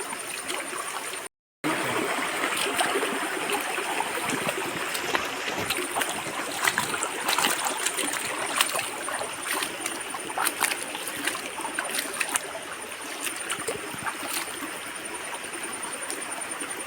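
A stream flows steadily beside a turmeric field, a continuous close wash of running water with small splashes and trickles throughout, no voices heard.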